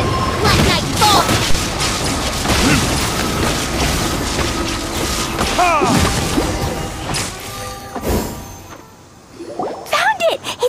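Explosions from an attack in Genshin Impact crash and boom in dense succession amid clanks and impacts, loud and close, with voices shouting over the fighting.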